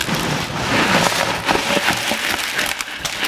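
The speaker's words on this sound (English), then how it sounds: "I'm going to dump all this out in a tray" Tumbler-cleaned bolts pour out into a tray at a workbench, making a dense, continuous metallic rattling and clattering cascade that stays loud throughout.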